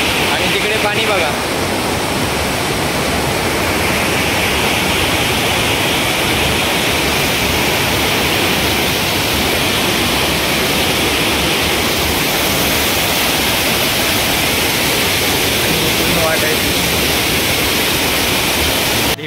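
A waterfall near a Ganpati temple sends up a loud, steady rushing roar that fills the whole stretch without a break.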